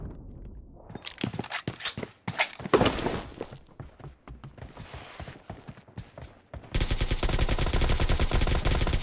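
Gunfire in the mobile shooter BGMI: scattered single shots and short bursts early on, then a long sustained automatic burst, all close and loud over quieter in-game sounds.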